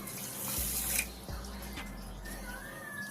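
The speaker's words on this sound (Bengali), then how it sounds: "ওই বাটির মাপে 1 বাটি জল দিলাম।" Water poured from a bowl into a mixing bowl of flour and sugar, a soft splashing pour lasting a few seconds, close and fairly quiet with no one talking.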